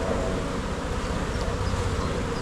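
Honeybees buzzing during a hive inspection, a dense, continuous drone of many wings close by, steady and loud with no talking.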